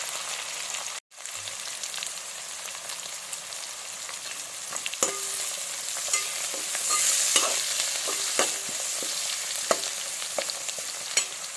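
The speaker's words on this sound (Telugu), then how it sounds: "మంచిగా ఆనియన్ వేగనివ్వండి." Onions frying in a pan for a mutton fry, with steady sizzling and several clear stirring scrapes and clinks against the pan, heard up close with no talk.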